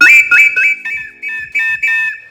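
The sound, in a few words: ancient double whistle being blown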